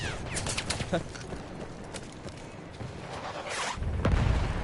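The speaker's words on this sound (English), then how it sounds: "A lot of things are shooting at me" Battlefield 1 video game gunfire: scattered sharp shots and bursts crackle through a busy battlefield din, with a heavier boom near the end.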